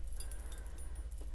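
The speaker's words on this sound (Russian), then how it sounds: "Здесь прям вот все звенит. Бубенчики, камушки какие-то." A phone charm hung with small bells and little stones gives off a faint, continuous high tinkling jingle in short shimmering bursts, close and quiet with no voices.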